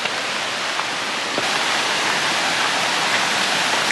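A waterfall on a mountain stream near Szklarska Poręba roars in a steady, full hiss, close by and constant, with no voices.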